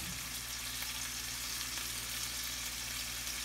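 Carrot, pigeon peas, cowpea pods, eggplant and chickpeas frying in oil for a Maharashtrian mixed vegetable curry, giving a steady, dense sizzle that stays even and close throughout.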